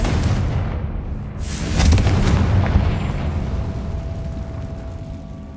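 A Confringo spell bursts in a Harry Potter video game with a deep, rumbling boom that swells and rolls away over a few seconds.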